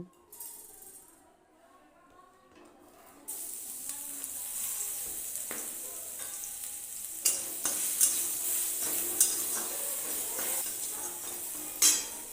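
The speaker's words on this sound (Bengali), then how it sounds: "তারপর দিয়ে দেব গ্রেট করে রাখা রসুন।" Grated garlic sizzles in hot frying oil for a small prawn curry, starting quiet then rising to a steady close crackle after a few seconds, with occasional stirring clinks.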